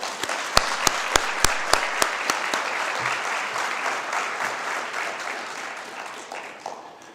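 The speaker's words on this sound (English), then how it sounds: "please give a round of applause" An audience applauds at a commencement ceremony, starting with several loud distinct claps that settle into steady clapping, gradually thinning out and fading.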